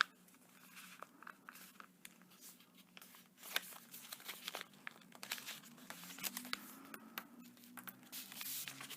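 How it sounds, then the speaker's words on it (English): Paper being folded for origami, giving soft, close crinkles and creases, faint and continuous with small rustles throughout; no voices. "I'm going to fold that all the way. Fold the other side."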